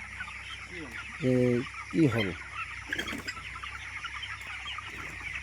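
Broiler chickens on a poultry farm, a few close clucks and short calls over a constant flock murmur and ventilation hum, with a brief spoken question.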